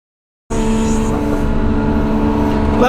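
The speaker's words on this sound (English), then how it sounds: "I'm still gonna pull my tractor in front of the store and take a picture of it" A wheel loader tractor's diesel engine kicks in abruptly after a short silence and holds a loud, close, steady droning hum while driving, with no speech over it.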